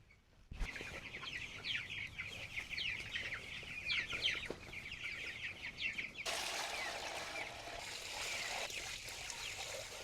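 A brood of week-old young chickens clucks and cheeps continuously indoors, many small overlapping calls at close range, with a brief louder hissing wash entering partway through and continuing to the end; no talk.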